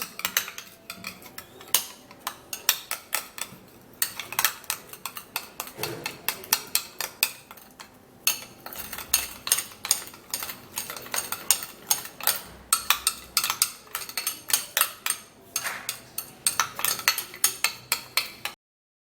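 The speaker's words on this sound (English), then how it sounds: "Now we'll have to stir this all up and mix the ingredients really well." Egg whites and other ingredients are stirred vigorously in a bowl, a utensil clinking and scraping against the sides in a fast, steady rhythm of close, bright taps that continues almost without pause.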